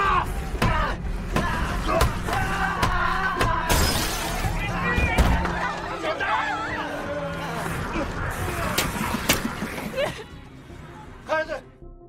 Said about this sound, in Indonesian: berjuang keras memecahkan pintu kaca yang menghalangi mereka